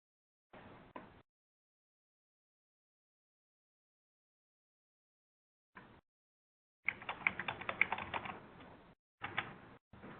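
Typing on a computer keyboard, entering a city name into a form, comes in short, quiet bursts of rapid key clicks separated by long silences, with a denser run of clicking near the end.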